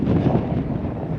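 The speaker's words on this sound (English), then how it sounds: "Oh, it is windy." Wind gusts buffet a microphone at an outdoor protest in Salina, Kansas, a low, rumbling roar that stays loud and fairly steady for about a second.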